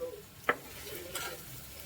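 Chopped onion frying in hot oil with turmeric gives a soft, steady sizzle under a sharp utensil clink against the pan, fairly faint overall.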